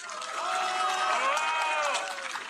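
A crowd at a Korean Democratic Party candidacy speech breaks into sustained applause and cheering, a broad, even wash of clapping lasting a couple of seconds with no speaking over it.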